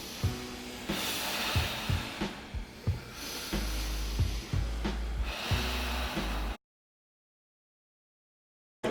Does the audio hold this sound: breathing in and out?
yes